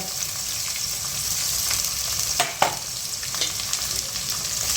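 Carrots, eggplant and potato fry in a pan for a mixed vegetable dish, a steady broad sizzle with a few sharp stirring clatters near the middle, close and fairly quiet, no talking.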